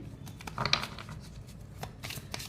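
Tarot cards being shuffled during a card reading, a few soft riffling flutters and light slaps close by, fairly quiet and without talk.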